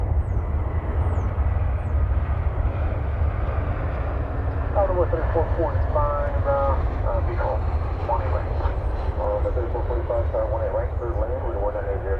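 A plane on the runway at DFW Airport with a steady low engine roar throughout, heard from a distance, while a person talks over it and radio voices cut in.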